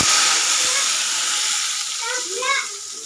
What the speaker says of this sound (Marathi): मी फोडणी मारलेली आहे आमटीला